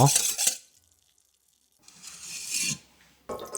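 A spoon stirs a heaped spoonful of flour into 1.5 litres of water for a broth, with short close scraping, swishing bursts separated by a silent pause and no talk.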